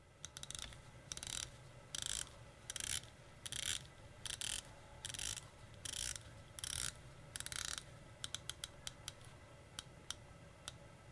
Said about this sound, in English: Oh, and if I didn't mention, this is a 120 click bezel.